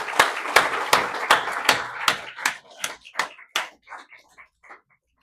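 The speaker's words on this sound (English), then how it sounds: "I'd like you to give yourselves a round of applause" A small audience at a marathon swimming hall of fame induction claps in sparse, distinct hand claps that start loud and thin out toward the end, with no talk over them.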